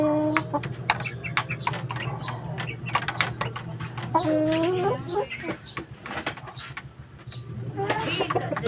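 Young chicks, some pure white and some spotted, cluck and cheep on a farm in a steady, busy stream of short calls over a constant low hum, with a few louder, clearer chirps rising near the middle.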